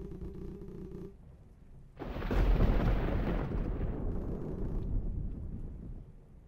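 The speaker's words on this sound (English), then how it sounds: "The storm outside is getting rough." A thunderstorm outside in the video game Heartbound, with a deep rumbling crash of thunder that swells suddenly and rolls on as a loud, sustained roar after a quieter low hum, with no voices.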